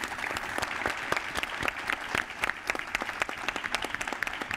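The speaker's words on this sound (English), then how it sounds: "Please, a round of applause for this awesome panel." Audience applause for a conference panel at Meetaverse Barcelona, a few seconds of scattered, crisp clapping from a modest crowd, with distinct individual claps that thin out toward the end.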